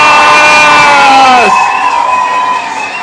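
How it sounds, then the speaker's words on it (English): A live broadcast audience cheers and whoops loudly at the close of a special show, with the crowd noise swelling, then easing slightly and continuing steadily to the end. "A round of applause!"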